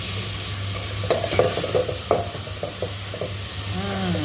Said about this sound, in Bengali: এই তেলের মধ্যে চিংড়িটা ভেজে নিচ্ছি